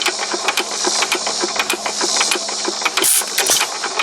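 A small stationary hit-and-miss engine, driving a mud pump under load, chugs steadily with a regular mechanical beat and rattling, hissing undertone, close and continuous.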